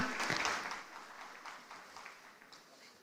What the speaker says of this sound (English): that applause should be better